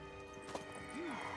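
Faint hoof clops and one brief whinny from a mare in the video game Witcher 3, set against a steady, soft game ambience.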